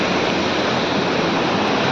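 Waterfall after heavy rain, water pouring down with force in a dense, steady broadband roar that fills the scene without a break and without voices.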